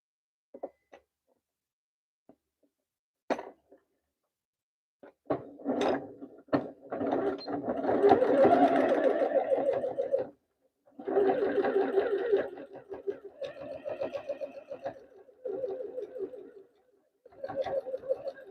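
A home sewing machine stitches French seams on a handmade purse in rhythmic mechanical bursts, running steadily for several seconds, pausing, then starting again in shorter runs, preceded by a few isolated clicks.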